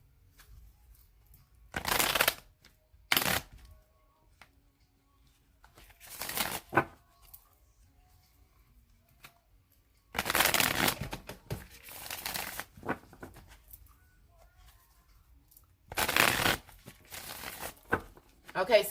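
A deck of tarot cards is shuffled in several separate bursts of crisp riffling and shuffling, close up, with quiet pauses in between and no one talking.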